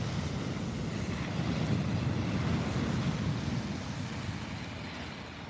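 Ocean waves break and wash steadily onto a beach, a continuous broadband roar of surf with wind noise against the microphone and no voices.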